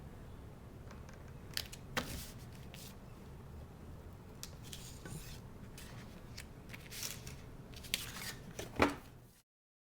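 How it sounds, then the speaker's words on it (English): Scissors snip through ribbon during a papercraft project, giving a few short, crisp cuts spread across a faint background hiss, with the sharpest snip near the end. No one speaks. "It was easy to cut with my scissors."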